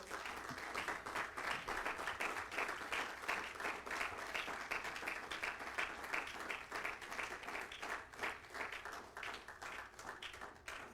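A church congregation applauds the Lord, a steady wash of many hands clapping at moderate distance, sustained without a break.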